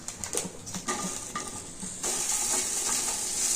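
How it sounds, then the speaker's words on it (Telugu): Green chillies fry in a little oil in a pan, a soft steady sizzle with a few stirring clinks and scrapes early on, close by and moderately quiet, without talk. "ముందుగా కొద్దిగా ఆయిల్ వేసుకొని మిరపకాయలు వేయించుకుంటాను"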